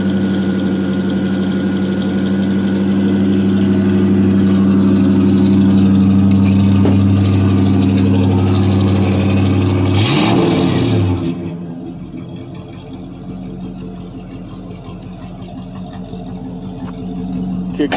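A 1985 Chevrolet C10 with its original 305 small-block V8 runs at a steady, loud fast idle after a cold start, then drops abruptly to a quieter, lower idle partway through.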